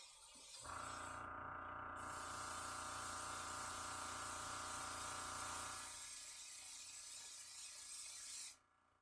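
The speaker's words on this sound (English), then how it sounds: "that's my air compressor kicking on" An air compressor for an airbrush kicks on and runs with a steady, loud mechanical hiss and hum for about eight seconds, then cuts off, with no talking.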